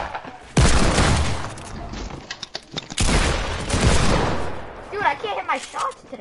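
Gunfire in a shooter video game, with dense, loud bursts of rapid shots and booming impacts in two long volleys. A voice talks briefly near the end.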